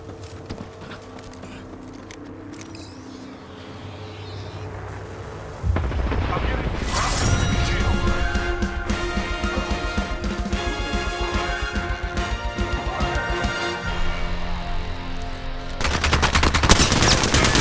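Gunfire in Apex Legends, a fast dense stream of automatic shots and crashing impacts that starts suddenly and keeps hammering close and loud, mixed with game music and voices.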